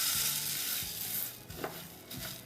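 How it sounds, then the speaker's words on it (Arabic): Lemon peel and spices roasting in a pan for a Tunisian pastry, giving a soft continuous sizzle with a few faint stirring scrapes, close and quiet. "هوني عندنا قشور الليم دونك باش نعرجوها، وتوا التابل نتاعنا باش نعرجوه مليح لين نحرقوه"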